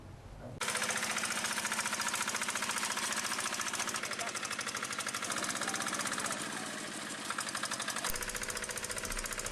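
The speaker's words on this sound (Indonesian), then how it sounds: "membuat traktor pembajak sawah yang digerakkan dengan remote control" A remote-controlled rice paddy plough tractor's engine starts abruptly and then runs with a loud, rapid, steady knocking chug that holds for several seconds. Its pitch shifts slightly near the end.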